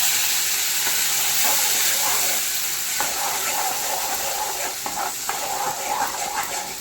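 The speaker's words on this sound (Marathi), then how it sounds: "आपण कढई तापत ठेवले आणि त्याच्यात तेल होते मम्मी कढीपत्ता टाकला आहे" Curry leaves and batter sizzle in hot oil in a kadhai, a loud, steady broadband hiss that carries through the whole stretch with small crackling bursts.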